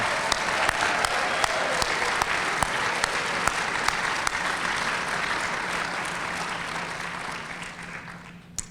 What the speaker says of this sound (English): I'd like one more large round of applause for all of our inductees this evening